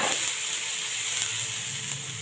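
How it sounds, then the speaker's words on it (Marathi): Onion and tomato with a little salt softening in a hot pan, giving a steady, even sizzle that stays close and continuous throughout, with no talking. "आता हे सर्व परतून घेऊया।"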